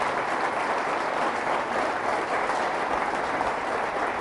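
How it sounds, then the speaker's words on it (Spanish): A church congregation gives loud, sustained applause at a Catholic service, a steady dense clapping that fills the whole span with no speech over it. "Fuertes aplausos a Jesús"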